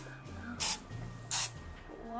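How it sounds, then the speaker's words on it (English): Cooking spray sprayed into cake mix while baking Christmas cupcakes: two short, loud hissing bursts about half a second apart, with people talking softly between them. "I'm gonna spray it in the cake mix."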